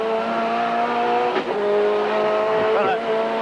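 Touring race cars at Sandown Raceway in the 1992 Australian Touring Car Championship roar past with a loud sustained engine drone, brief tyre squeals and a couple of passing surges, close and continuous.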